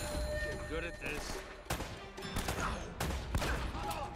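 Sharp shotgun blasts ring out in an Uncharted firefight, several distinct loud reports spaced a second or so apart amid game sound effects, with a voice talking over them.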